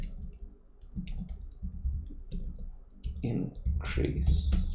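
Rapid, close keystrokes clatter on a computer keyboard as code is typed, coming in uneven bursts with brief pauses and growing denser toward the end.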